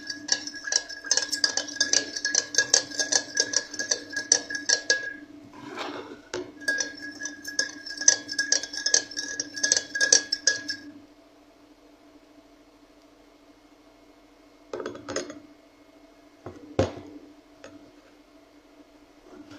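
A spoon clinks and scrapes steadily around a glass of mixed powdered sherbet drink for about ten seconds, pauses briefly, resumes, then gives way to quiet with a few sharp taps near the end.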